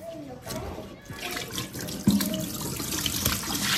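Tap water runs into a sink as sea moss is rinsed, a steady close splashing wash with irregular surges and handling noise throughout.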